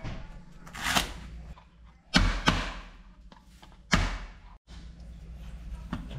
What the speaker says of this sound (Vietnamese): Sả thì các bạn cắt khúc ha, mình sẽ đập cho nó dập ra.